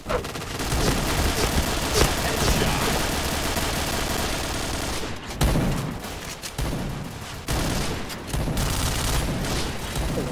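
Continuous gunfire from the witch-themed video game Witch, dense bursts and volleys at steady loudness, with a brief lull in the middle before the firing picks back up.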